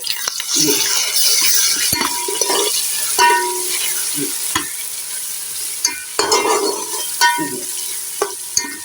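Ginger garlic paste sizzles and fries in a pot of browning mixture while being stirred, with steady crackling, scraping spoon strokes and occasional clinks against the metal, a voice talking intermittently over the cooking.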